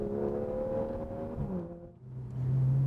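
Porsche 911 GTS engine rising under throttle as it pulls out of a corner, a smooth climbing drone that dips at a shift and then picks up again, heard without talk.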